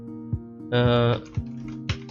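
Keys clatter on a computer keyboard as a drive name is typed, a few isolated clicks around a burst of quick presses, close and distinct, with someone talking over it.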